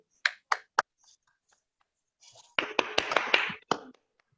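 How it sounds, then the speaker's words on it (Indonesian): A class of students clapping hands in a classroom: a few sharp separate claps, then a short, ragged burst of group clapping, near and fairly quiet, with brief murmurs between. "Mungkin bisa tepuk tangan dulu"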